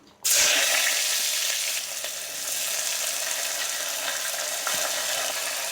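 Spices and onions hit hot oil in a pressure cooker and burst into a loud, bright sizzle that settles into steady frying, with a few faint stirring clunks and no talk.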